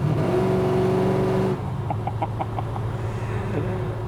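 A 1968 Dodge Dart GT with a 440 V8 revs hard with a loud rising engine roar for about a second and a half, then cuts back to a low rumbling idle with a few faint chirps.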